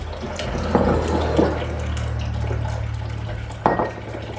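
Kombucha poured from a fermenting vessel during second-ferment flavoring gives a steady close-up liquid flow with a few brief splashy surges.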